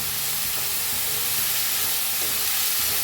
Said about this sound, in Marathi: आता हलवून घेऊया.